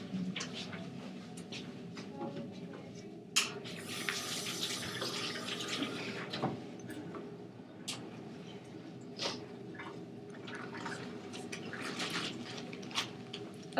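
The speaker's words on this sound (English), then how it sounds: "I'll wash my hands really quick and then get started." Hands are washed under a running kitchen sink tap before baking, steady splashing water with small clinks and bumps, close by and without talk.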